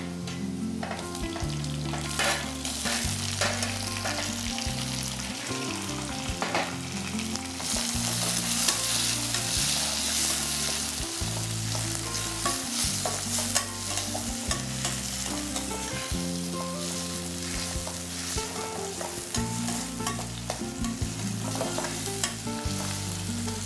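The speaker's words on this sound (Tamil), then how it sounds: "இப்போ வெங்காயம் வதங்கிடுச்சு, தக்காளி போட்டுக்கலாம்." Tomatoes tossed into sautéed onions in a pan, a loud continuous frying sizzle with constant stirring and scraping throughout, close and busy.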